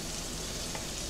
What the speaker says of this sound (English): I'm gonna go ahead and throw my jalapenos in there. And my minced garlic.